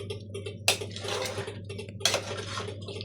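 A metal lid goes onto a cooking pot of duck simmering in coconut milk, giving two sharp clanks about a second apart with softer scraping between them.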